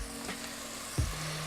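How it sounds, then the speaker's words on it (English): Lemon juice sizzles faintly in a hot shrimp scampi pan as it deglazes, a soft steady frying hiss with a brief louder splash near the end. "get the other half of our lemon, juice that in. This is gonna deglaze the pan."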